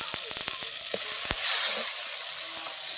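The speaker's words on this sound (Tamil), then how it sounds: "தக்காளி நல்லா வதங்கணும், அதுக்கு கொஞ்சமாக உப்பு சேர்த்து நம்ம வதக்கிக்கலாம்." Tomatoes sprinkled with salt are sautéed in a clay pot for brinjal and drumstick kara kuzhambu: a loud, close, continuous sizzle with a few sharp spoon scrapes and knocks at the start.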